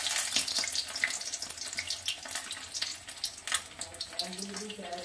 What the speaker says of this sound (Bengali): বেসনের দুপাশটা ডুবিয়ে এরকম তেলে দিয়ে দিচ্ছি।